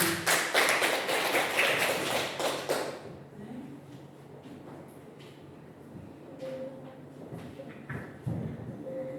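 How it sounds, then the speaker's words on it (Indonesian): A short burst of applause from a small group of women, clapping briskly for a few seconds before fading into quiet room noise with faint movement. "Ibu-ibu semuanya mohon beri tepuk tangan untuk Bu Laili."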